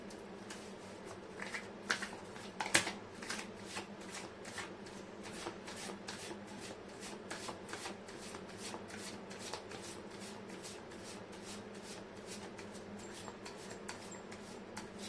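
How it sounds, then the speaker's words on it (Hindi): A deck of tarot cards is riffled and shuffled over and over in quick, regular papery flutters, close and quiet, with no one speaking. "मैं कर लेती हूँ कार्ड की शफलिंग।"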